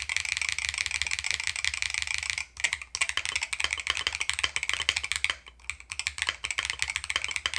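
Keys clatter on a NAJA 68 mechanical keyboard fitted with foam, fast close typing in dense bursts of muted clacks with two brief pauses, no voices.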